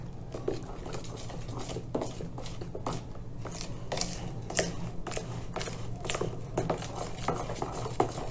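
A spoon scrapes and taps around a bowl in quick repeated strokes, a soft rhythmic stirring of pumpkin cake batter close by.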